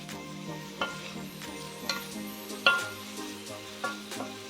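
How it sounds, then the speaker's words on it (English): Onion frying in a pan for a chicken stew, a soft continuous sizzle with regular stirring knocks and scrapes about once a second, close and without talk. "We're going to fry the onion a little bit."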